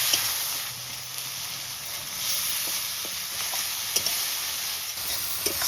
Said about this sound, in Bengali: মশলা খুব ভালো করে কষানো চলছে